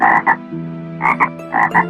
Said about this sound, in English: There were two frogs in the near about garden